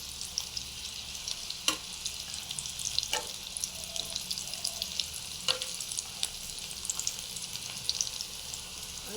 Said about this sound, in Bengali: আলুগুলোকে ভালো করে ভেজে নিচ্ছি